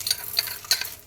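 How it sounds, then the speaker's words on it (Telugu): Urad dal dropped into hot oil for tempering, after mustard and cumin seeds, gives brief bursts of bright crackling sizzle with a few stirring scrapes, close and moderately loud, and no voices. "ఇప్పుడు దీనిలో ఈ మినపగుళ్ళు వేసుకోవాలి."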